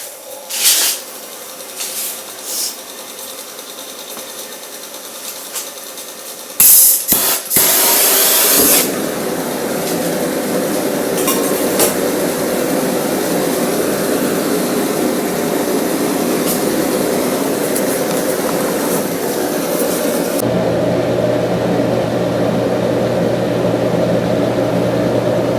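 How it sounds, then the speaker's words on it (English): A propane-burning ribbon forge with a blower roars into life: a few clicks and bursts as it lights, then a loud, steady rushing hiss and drone that continues unbroken and deepens slightly near the end. "This is a gas burning, propane burning ribbon forge."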